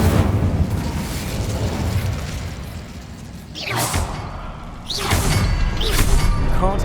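Hogwarts Legacy Incendio fire spell: a roaring, rumbling blaze holds steady, then two sharp whooshing bursts flare up one after another, loud and close with no talking.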